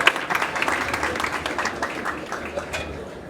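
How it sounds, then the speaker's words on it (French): Audience applause at a Cameroonian talent awards ceremony, a moderate patter of many hands clapping steadily throughout, with some voices mixed faintly underneath. "Est-ce qu'on peut applaudir pour elle,"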